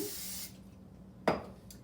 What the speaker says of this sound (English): let me spray the pan that it's gonna go in